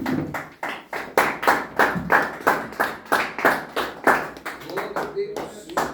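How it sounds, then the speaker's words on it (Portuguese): A church congregation clapping hands in a steady, rhythmic beat, around three claps a second, fairly close and loud, with talk and voices running beneath the clapping. "Pode se assentar e bater palmas para Jesus"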